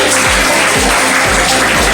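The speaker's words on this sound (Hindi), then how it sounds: "अरे बजाओ, ताली बजाओ" Audience clapping at a school toppers' award function, a dense, loud, continuous patter of many hands with a repeating low thump beneath it.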